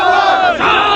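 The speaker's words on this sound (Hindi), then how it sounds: "निसंदेह बहुत बड़ी भीड़ है यहाँ पर अभी छात्रों की।" A large crowd of protesting students shouting together in a demonstration for an investigation, a loud, close, sustained roar of many voices in unison that dips briefly midway then surges again.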